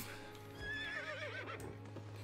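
Horse in the video game Albion Online giving a clear rising and falling whinny, followed by soft snorting and hoof sounds, fairly quiet.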